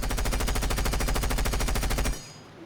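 An automatic rifle fires in Rainbow Six Siege, loud rapid sustained bursts at an even fast rate for about two seconds before stopping abruptly.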